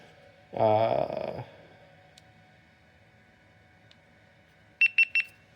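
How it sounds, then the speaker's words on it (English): A burst of noise, then after a pause three short, bright electronic beeps in quick succession as a GoPro HERO 13 action camera powers on, fairly close and clear against a quiet background. "So there's a little beeping"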